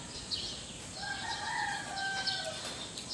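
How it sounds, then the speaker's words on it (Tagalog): On a rainy morning, a rooster gives one long, drawn-out crow over steady rain and ambient noise. The call is moderately distant and rises then trails off over about two seconds, and no talk can be heard. "Tiraok ng manok."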